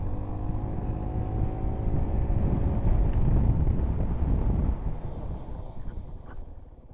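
A BMW C400X or Honda ADV 350 maxi-scooter cruising at about 80 km/h, with steady wind buffeting over a low engine drone that swells in the middle and eases toward the end, with no talk.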